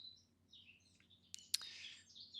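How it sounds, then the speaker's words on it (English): Birds outdoors chirping and tweeting in quick high trills and sharp calls, one loud close chirp standing out over a faint low hum. "Gosh, can you hear the birds?"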